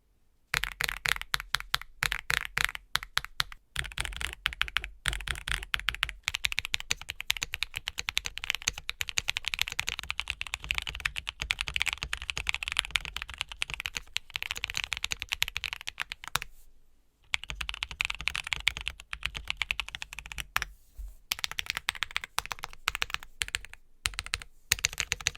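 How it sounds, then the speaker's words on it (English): Rapid, steady keystrokes on a premium mechanical keyboard during a typing test, clicking and clacking in dense bursts with a few brief pauses, close and clear with no talking. "let's go into the typing test to see what it really sounds like when you're typing on them"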